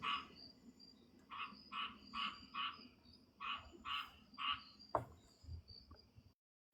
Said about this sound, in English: have a fucking frog now too? My frog is talking to Paris's frog